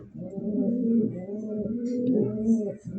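Pigeons cooing in a loft, a steady layered murmur of low throaty coos with slight rises and falls running continuously throughout, fairly close and with no other sound over it.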